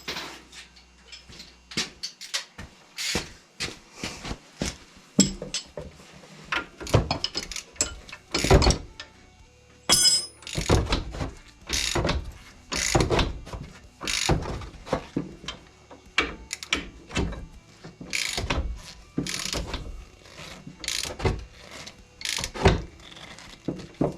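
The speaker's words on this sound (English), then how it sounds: "Check it with a wrench, which is over here." A wrench checks a fitting with close, crisp ratcheting clicks in short repeated bursts separated by brief pauses, continuing steadily for some twenty seconds.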